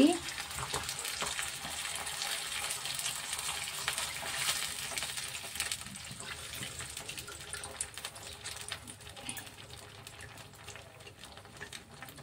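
Chili paneer sizzles and fries in a pan as a sauce mixture of chili sauce, soy sauce, tomato ketchup, vinegar and cornflour is stirred in, a continuous hiss that starts loud and gradually softens.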